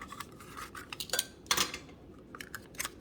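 Scissors snip and crunch through a Keurig rinse pod full of white powder, giving sharp irregular cuts and crinkling plastic-foil clatter in short bursts. The sounds are close and loud against quiet background.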